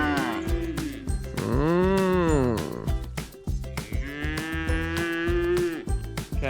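Cows mooing in a field beside a rural road in New Zealand, several long loud lowing calls, one rising and falling, overlapping, with a person briefly greeting them.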